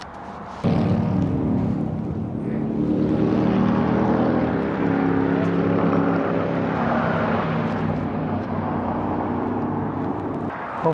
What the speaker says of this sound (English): Let's pull out the drone, let's get some footage.